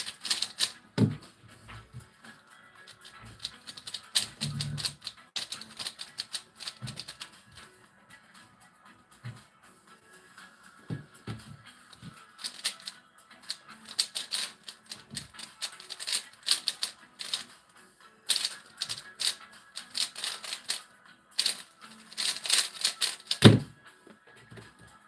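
Rapid keystrokes on a keyboard near a 3x3 speedcubing setup, bursts of fast clacking typing with short pauses between runs, close and moderately loud with no talking.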